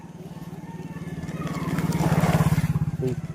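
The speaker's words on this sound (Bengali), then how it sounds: "ওই তো শেয়াল, প্রচুর শেয়াল ডাকছে।" Jackals call near a bamboo grove at dusk, a rising, pulsing tonal cry that swells over about three seconds before breaking off, fairly close and loud with no talking over it.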